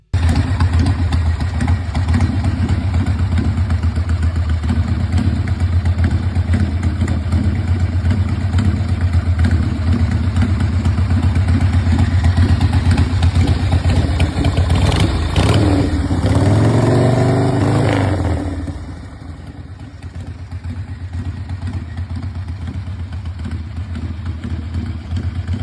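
An old-school Harley ironhead chopper engine runs loud and close with a steady loping idle, rising into a rev around the middle before dropping back to a lower idle.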